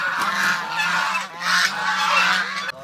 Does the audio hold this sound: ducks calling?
yes